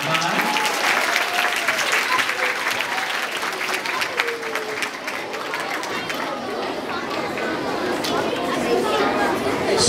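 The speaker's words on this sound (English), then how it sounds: "Big round of applause for 5-5." Steady, loud applause from a crowd in a ballroom as a class of ballroom dancers enters, sustained for the whole stretch, with chatter and voices mixed through the clapping.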